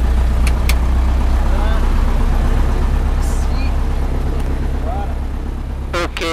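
A Piper PA-18 light aircraft engine runs with a loud, steady low rumble and droning hum, close and continuous throughout, on the ground at Ruoms.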